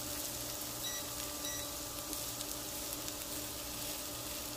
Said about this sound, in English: In this skillet to saute these onions and celery and jalapenos.